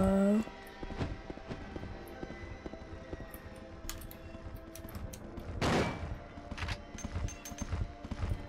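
Sparse, slow single gunshots from a handgun in Silent Hill 2, spaced apart with a heavier burst midway, under quiet talking and ambient game noise.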